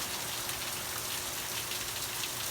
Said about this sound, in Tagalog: nakakainis yung ulan